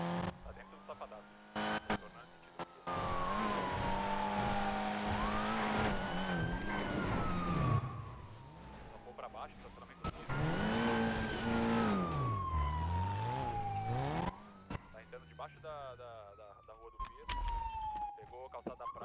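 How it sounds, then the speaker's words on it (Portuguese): A police car siren wails in a video game, a loud, close, sweeping tone that rises and falls in long cycles under engine noise, with players talking over it. "Pode ligar aqui, é sirene que eu boto aqui."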